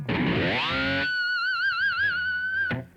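An electric guitar plays a whammy bar harmonic, a piercing squeal plucked from a loose string that swoops upward, then wobbles with a rapid vibrato before cutting off, heard alone and with heavy distortion and effects.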